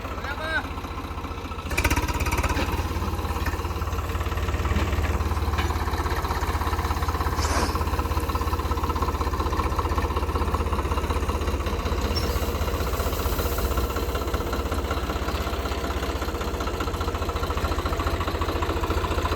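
A farm tractor idles with a steady low mechanical throb while being loaded with crop residue, running continuously and fairly close, with people talking over the engine.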